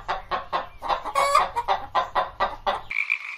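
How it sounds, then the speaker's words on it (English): Chickens cluck in a quick, steady run of loud, close calls mixed with a rooster's crow, ending in a brief sustained higher tone, with no talking. "Chicken."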